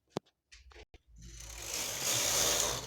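A punch card knitting machine carriage knitting rows of a baby bunny cap: a few sharp clicks and short rattles, then a sustained loud, rasping slide as the carriage runs across the needle bed, close and without talk.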